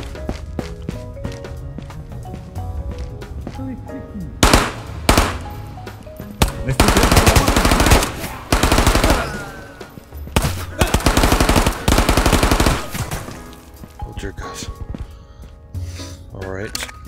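Tommy gun loaded with a drum magazine firing in the game Ghosts of Tabor, loud rapid bursts in several long strings separated by pauses, over a steady game background.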